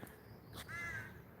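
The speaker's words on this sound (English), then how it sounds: "that's a crow in the background" A single crow caws once, fairly faint and distant, behind a quiet background during a live channel update.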